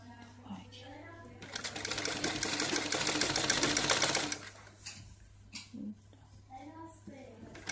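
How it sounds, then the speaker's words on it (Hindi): An electric sewing machine runs a steady fast stitching burst for about three seconds while an apron of kitchen cloth is sewn, stopping abruptly, with someone talking before and after. "ऐसे मैं इसे पूरे को सिल के तैयार कर लूंगी।"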